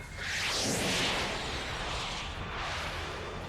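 A fighter jet firing during an air combat scene in the 1986 film Top Gun: a loud, close whooshing rush of sound with a roaring, broad body that swells and then holds for a few seconds, without speech.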